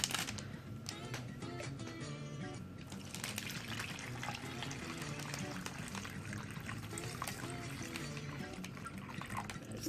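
Water pours steadily into an MRE bag for a Menu #1 chili with beans meal, a faint, continuous splashing and gurgling that runs the whole time at low volume.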